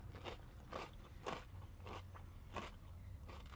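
Crisp bites into a crunchy golden fried snack, several sharp crunches spaced apart, close and quiet, with soft chewing between them and no talking.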